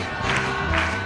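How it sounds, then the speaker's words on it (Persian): A studio audience at a family children's game show bursts into a brief, loud wash of cheering and clapping for a child. "تشویقش کنیم."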